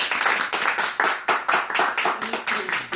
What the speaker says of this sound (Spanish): Eso no se merece un aplauso.